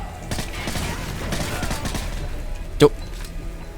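M5 rifle fire in Call of Duty Modern Warfare 3, dense rapid bursts rattling close and loud through most of the stretch, with one sharper crack near the end and battle noise underneath.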